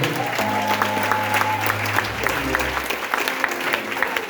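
Church congregation applauding in acclaim of the Lord, a steady dense clapping that fills the room throughout, with a low sustained organ or keyboard tone underneath.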